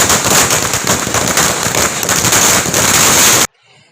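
Dense, rapid crackling and popping of fireworks at a political party celebration goes on loudly for several seconds without a break, then cuts off abruptly.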